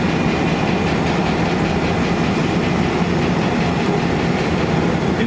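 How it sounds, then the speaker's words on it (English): A restored Union Pacific E9 diesel streamliner locomotive, rebuilt in 1993 with modern mechanical components, gives off a loud, continuous rumble with a faint rolling clatter underneath, steady throughout and free of speech. "It's one of 3 E9 locomotives restored by Union Pacific for use in special service."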